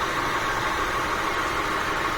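A 2001 Honda Accord that had been overheating idles steadily, a continuous even engine hum with a hissy broadband wash and no talk.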